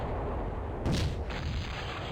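A single cannon shot in the Cossacks strategy game, fired at a wall: a short boom with a bright burst about a second in, set over a constant low game background hum.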